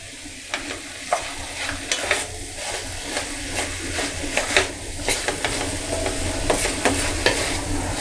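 Mixed winter vegetables with turmeric, coriander and red chilli powder being stirred in a frying pan, steady close sizzle with repeated scraping strokes of a spatula throughout, no voices.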